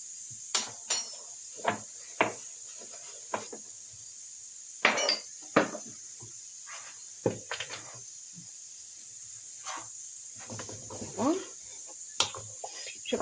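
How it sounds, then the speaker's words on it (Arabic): A large spoon stirring a pot of Moroccan harira, giving irregular metallic clinks and scrapes against the pot, fairly close and alone over a faint steady background hiss. "دابا انا نحرك الطنجره ديالي"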